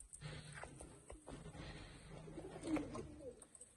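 A large pigeon coos softly and low, with faint rustling and shuffling nearby in a quiet setting.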